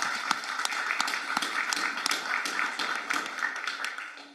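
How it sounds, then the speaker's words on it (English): Audience applause for a state champion school team at a city council meeting, a steady dense round of clapping from a crowd, fairly close and continuous, with no voices over it. "Let's give a round of applause for the state champs."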